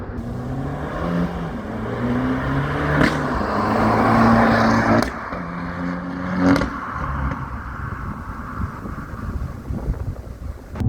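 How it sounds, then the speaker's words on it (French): An Abarth 595 engine revs up in rising pitch steps, with audible gear changes breaking the climb every second or so, wind rushing past as it accelerates. "on entend le passage des rapports"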